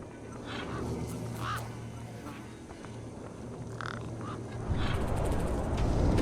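Birds squawk and honk near a truck in the video game Beyond a Steel Sky, giving several short harsh calls over a low ambient drone that swells louder toward the end.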